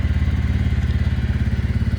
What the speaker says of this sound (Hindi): बाइक स्टार्ट हो गई है